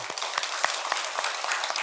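Church congregation clapping together after a summer Bible school is praised, a dense steady patter of many hands with a few sharper claps, moderately near and free of talk.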